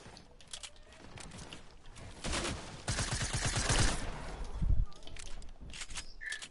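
Rapid shotgun gunfire in a Fortnite-style creative 1v1 video game match, a dense burst of loud blasts and rattling shots in the middle, with quieter game sounds before and after.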